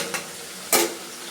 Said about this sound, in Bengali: চলো আলুগুলো ভাজা হোক